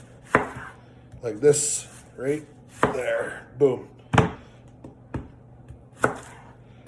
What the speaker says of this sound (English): I don't care how you dice your onions.